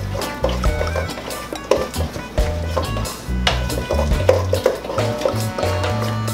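Blueberry pancake batter being stirred in a bowl, a steady scraping and knocking of the utensil against the bowl with irregular taps, heard close up alongside low background music.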